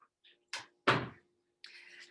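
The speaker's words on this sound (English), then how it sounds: "I'm just going to close my door." An indoor door being closed: a few soft handling bumps and a firmer thud close by, then a short rustle, heard alone in a quiet room.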